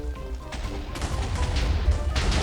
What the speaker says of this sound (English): That sounds like an explosion